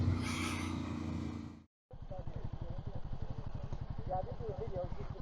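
An 800 cc, 90 horsepower adventure motorcycle rumbles on gravel with a steady, pulsing engine beat, close and loud after a brief cut, while voices talk over it.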